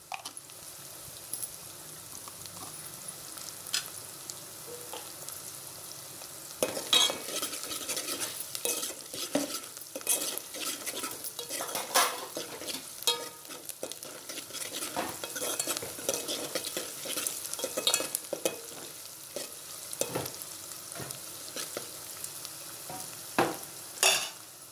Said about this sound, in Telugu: ఉల్లిపాయ పచ్చిమిరపకాయ వేగింది.